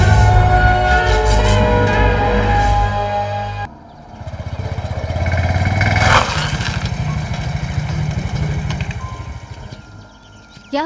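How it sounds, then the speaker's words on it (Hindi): A motorcycle running out of petrol sputters with an uneven, pulsing engine chug that surges and sags before dying away, following a stretch of music. "पता नहीं क्या हो गया बाइक को। पेट्रोल खत्म हो गया।"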